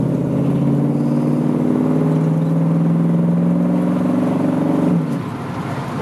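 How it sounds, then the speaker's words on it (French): A 1965 Ford Mustang coupe's V8 rumbles through glasspack mufflers on a road test. It holds a loud, steady, deep purr for about five seconds, then the engine note drops lower and softer. "vous avez un petit peu entendu le ronronnement des Glasspack"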